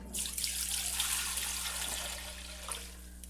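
A 1.5-liter bottle of Pinot Grigio is poured into a pot for homemade Dijon mustard, a steady splashing trickle of liquid lasting a few seconds over a low kitchen hum.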